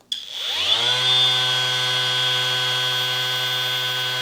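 A Parkside Performance 20V cordless sheet sander (PAMSP 20-Li A1) spins up from silence and settles into a steady, loud, close whine with a constant high pitch and strong harmonics, running alone.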